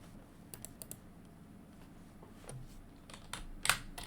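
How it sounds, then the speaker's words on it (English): Soft, sparse keystrokes tap on a computer keyboard while a wallet address is entered, quiet irregular clicks with a slightly louder burst near the end. "you type in your wallet address"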